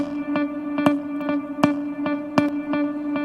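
A guitar patch on a keyboard with reverb added, playing a steady held tone with regular plucked accents about every quarter second, the notes blurring into a washy sustain. Moderately loud, with no talking.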